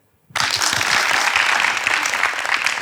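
After a brief silence, loud applause breaks out abruptly from a large audience and continues steadily at full strength.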